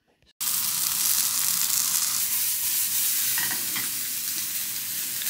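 A vegan kebab with onion sizzles and fries loudly in a pan. The steady hiss starts abruptly and keeps going, with faint stirring scrapes.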